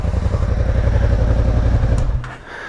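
A 2009–2015 Suzuki SFV650 Gladius engine runs at a steady, loud idle with a low, even chug, then drops off near the end.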